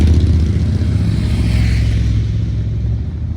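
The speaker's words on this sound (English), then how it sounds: "Motorbikes are so loud." A loud motorbike passes on a street near the harbour and seafront in Ilfracombe, and its deep engine rumble and revving stay close and prominent throughout before easing slightly at the end.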